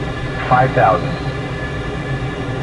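Steady, loud engine drone fills the cabin of an aircraft flying around Kuala Terengganu, with a brief muffled voice near the start.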